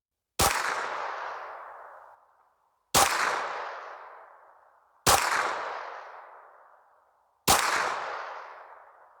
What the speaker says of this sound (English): I wonder how the audio is going to sound on this for the gunshots.